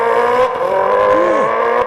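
Mouth imitation of an 800 horsepower Audi RS6 engine voiced through a toilet paper roll, a steady buzzing drone with a rising, revving sweep midway, loud and close.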